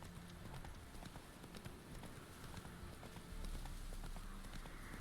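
Horse hooves trotting steadily in The Witcher 3, a continuous clip-clop beneath a faint background wash at low volume.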